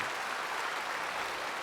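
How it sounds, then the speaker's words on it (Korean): A church congregation applauds with dense, continuous clapping that fills the space at steady loudness, with no voices over it. "여러분 다시 한번 박수 한번 합시다."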